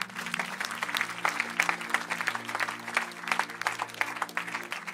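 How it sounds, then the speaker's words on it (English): Scattered audience applause fills a church Sunday service, steady across the whole stretch with a low sustained organ or keyboard tone underneath. "I thought you would clap."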